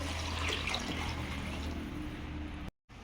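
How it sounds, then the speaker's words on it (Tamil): Water pours steadily into a pot of chicken biryani, a continuous broad splashing rush heard close and alone for nearly three seconds before cutting off briefly. "இந்த டைமில் நம்ம வந்து பிரியாணிக்கு தேவையான வாட்டர் ஆட் பண்ணிக்கலாம்"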